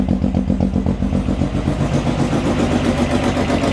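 A motorcycle engine idles loudly after coolant has been added, running steadily with a rough, clattering rhythm throughout, close to the microphone with no talking.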